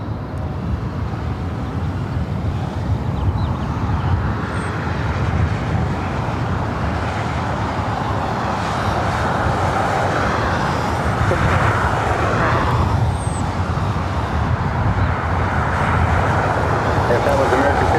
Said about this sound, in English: up next, Korean Air Flight 11, the A380 Super,